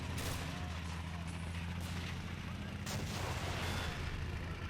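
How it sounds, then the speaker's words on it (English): A bazooka shot striking a Panzer IV tank in Men of War: Assault Squad 2, a muffled boom and crackle sitting low under a steady wash of battlefield rumble and distant gunfire. "So we should be able to score a really nice hit with the bazooka"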